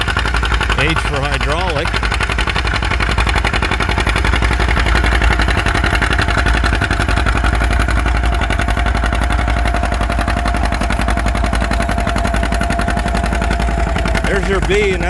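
An antique Model B tractor at a plow day runs with a loud, chugging engine beat that pulses steadily close by, while someone talks over it.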